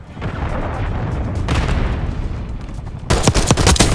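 In Call of Duty: Black Ops 6 gameplay, a Hellstorm missile strike lands amid gunfire. Rattling bursts and heavy booms build, then a sharp cluster of loud blasts hits near the end.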